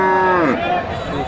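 A heifer at an outdoor cattle market lets out a single loud, close, drawn-out moo that falls in pitch, with the murmur of the market behind it.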